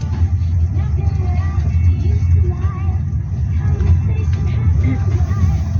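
Steady low engine rumble from a car under way on a road trip to Zakarpattia, continuous and fairly loud with road noise throughout, no clear talk.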